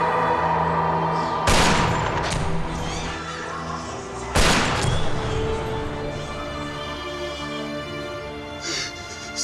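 A gunshot in a Turkish TV crime drama rings out as two loud, sharp blasts about three seconds apart, each trailing off over a steady bed of dramatic music.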